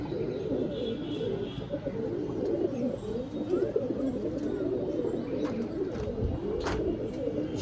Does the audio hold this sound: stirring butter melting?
no